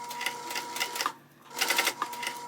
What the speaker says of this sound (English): I'm sewing from the exterior side.